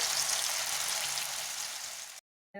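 Onion pakoras fry in hot oil at a Kashmiri street-food stall, giving a steady, dense sizzling hiss close by that cuts out abruptly near the end.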